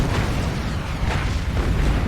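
A truck explodes in the video game War Mongrels: deep rumbling blasts roll on without pause, a loud, dense explosion-like roar with no clear break.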